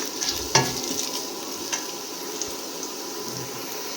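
Whole dry spices, including mace and cardamom, sizzle and fry in a pot of hot oil while being stirred for an egg, pea and saffron pulao, with a sharp crackle early on and then a steady soft hiss.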